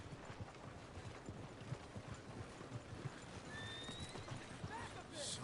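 Horse hooves clip-clopping in a steady walking rhythm in a video game, carried under a busy continuous background bed of ambient sound.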